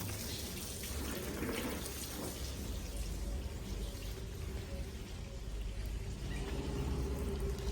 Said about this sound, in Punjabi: ਪਹਿਲਾਂ ਚੰਗੀ ਤਰ੍ਹਾਂ ਨਾਰਮਲ ਪਾਣੀ ਮਾਰਦੇ ਇਹਦੇ ਉੱਪਰ